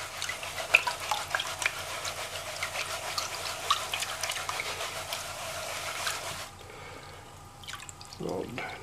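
Gold pan worked with water and gravel, giving a steady wet swirling and sloshing with scattered gritty clicks of stones, close up, that thins out near the end.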